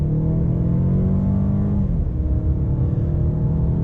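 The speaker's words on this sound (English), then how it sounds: "So we'll get out here and give it a little bit of an acceleration test." A 2021 Mercedes-Benz A-Class A 220 accelerates from inside the cabin, a steady engine drone rising in pitch, dropping at a gear change, then climbing again, loud and continuous.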